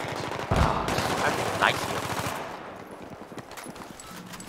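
Rapid automatic gunfire from the Battlefield 3 multiplayer map Operation Métro, loud bursts in the first half fading to scattered shots, with someone speaking German over it.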